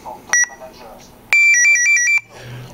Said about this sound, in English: the final beep will be the warble tone, if you will, to let you know you should have finished